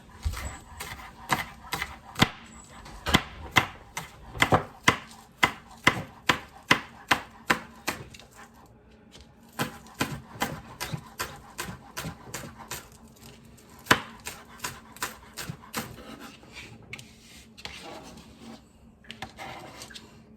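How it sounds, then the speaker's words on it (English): Knife slicing scallions on a cutting board, whites separated from greens: a long run of crisp, evenly spaced chops, fairly faint and close, with a short pause partway through before the steady cutting resumes. "we're going to slice up our scallions, separating the whites from the greens"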